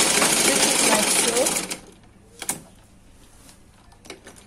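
A sewing machine stitches trousers in a fast, loud, buzzing run of about two seconds, then stops, leaving a quiet room with a few faint clicks.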